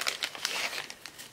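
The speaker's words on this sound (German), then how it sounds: "jetzt muss man nur wieder die Tüte aufkriegen" Someone opens a plastic bag of nail files, giving brief, close crinkling bursts in quick irregular succession with no talk.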